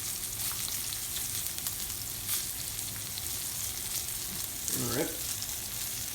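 Side dishes fry in a pan alongside a reverse-seared steak, giving a steady close sizzle throughout, with a brief stirring scrape and a short spoken remark.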